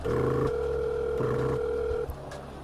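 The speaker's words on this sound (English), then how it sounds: "from between clicking the call to when the ringing starts, it feels like it stretches out for far longer than it should" An electronic phone ringback tone plays close and steady, two long purring tone bursts separated by a brief gap, then cuts off into quiet.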